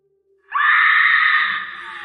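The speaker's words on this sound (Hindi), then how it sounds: "मानसी चीख पड़ी।" A woman's loud, sustained scream in a horror story setting, starting abruptly after a brief pause and holding high and strong for about a second and a half before easing slightly, with no talking.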